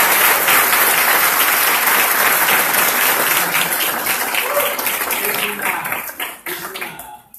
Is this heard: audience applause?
yes